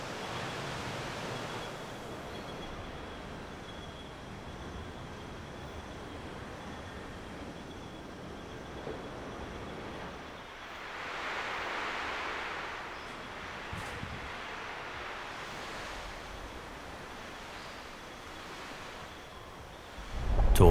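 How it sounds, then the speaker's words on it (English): Ocean surf and forest ambience on Príncipe island: a soft, continuous wash of waves and rustling, fairly distant and even, with a brief swell midway and a sharper rise at the very end. "listening to the sounds of the ocean and forest"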